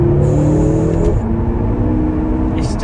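A BMW M6 F13 accelerates hard with wheels spinning, its engine a loud, close, steady roar with a rising tone that briefly drops around a gear change before pulling again.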